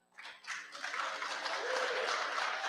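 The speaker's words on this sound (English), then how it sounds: "So start clapping." A church audience breaks into applause that starts sparse and swells into steady, dense clapping. It is moderately distant and keeps building without talk.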